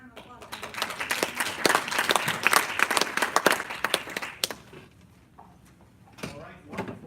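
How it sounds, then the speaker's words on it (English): Conference audience claps for a panel, a lively round of applause that thins out and fades after a few seconds, followed by scattered claps and some talking. "Let's give a round of applause."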